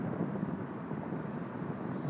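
An FMS P-47 800mm RC model plane flies downwind at full power, a steady droning motor roar passing at moderate distance against wind noise.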